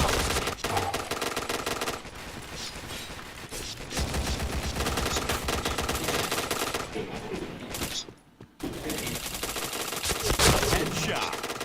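Rapid automatic gunfire in a video game, dense repeated bursts of shots running almost throughout, loud and close, with a brief pause near the end before firing resumes.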